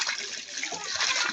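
Irrigation water flows through a flooded rice field in the countryside, a close, hissing rush of splashing water that runs steadily throughout.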